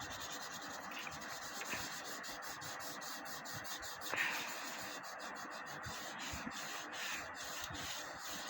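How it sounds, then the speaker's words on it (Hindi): Paper rubbed smoothly over pencil shading on a drawing: a steady, close, soft scratchy rubbing that keeps going with quick back-and-forth strokes, alone without talk. "पेपर को इसके ऊपर स्मूथली रब कर रही हूँ"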